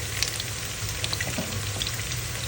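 Three or four chopped onions frying in a pan for browning, a steady dense sizzle with crackles, close and continuous with no talk.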